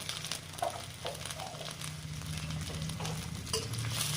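Onions fry in a pan with a soft, continuous sizzle and occasional stirring scrapes, quiet and close with no talk.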